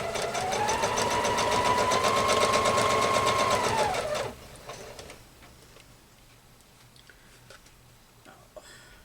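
A sewing machine stitches a pumpkin placemat with a loud, fast, steady whir for about four seconds, then stops, leaving quiet handling noises.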